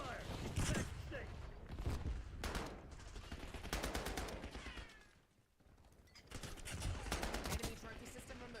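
Sustained video game gunfire, with dense automatic bursts and repeated shots through most of the stretch, briefly easing off midway before resuming loudly, amid game sound effects.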